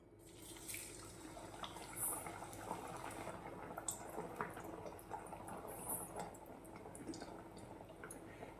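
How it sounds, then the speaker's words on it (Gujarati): Sabudana and potato tikki slipped into hot oil in a pan bubble and sizzle in a steady, close, fairly quiet crackle that keeps going with small pops throughout, with no voices. "તો હવે આપણું તેલ ગરમ થઈ ગયું છે તો આપણે તેમાં વડા બનાવેલા નાખી દઈશું"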